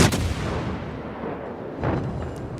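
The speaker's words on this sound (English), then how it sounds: "get my guns onto him. Here we go. Let's get them firing." Heavy naval guns of the cruiser USS Dallas fire in World of Warships, two deep booming salvos about two seconds apart rolling over a low rumbling background, loud and without talk.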